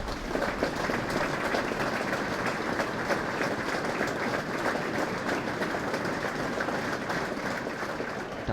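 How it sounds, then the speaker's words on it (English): A football crowd holds a sustained minute's applause at Barrow's ground in memory of a former winger. The dense, even clapping from a large stand carries on without a break and sounds somewhat distant. "we are about to have a minute's applause in memory of the former Bluebirds winger Brian Pilkinson"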